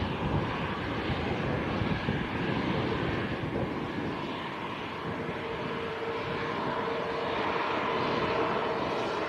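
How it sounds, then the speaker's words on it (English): A TUI Boeing Dreamliner being pushed back at Manchester airport, with a steady broad roar of jet engines and airport rumble that holds constant throughout, moderately loud with wind buffeting and no talk. "That is the tail of a TUI Dreamliner on the push."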